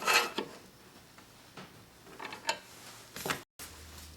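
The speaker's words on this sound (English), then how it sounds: "Now I've just tensioned the blade with the spanner supplied" A few sharp metallic clicks and brief ratcheting taps as a spanner tightens the thin blade on a 7-inch trim saw for cutting stone, glass or tile, close and fairly quiet, separated by short pauses with a soft hum.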